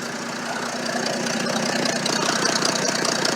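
An old Ford tug engine idles roughly nearby, its steady chug broken by an uneven, stumbling beat from a misfire.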